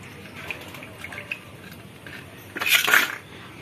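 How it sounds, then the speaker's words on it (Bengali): Green chilies are rinsed in water in a village kitchen, with faint drips and light splashes, small clinks of a metal dish, and a brief louder swish of water near the end. "কাঁচামরিচ কটা ধুয়ে নি।"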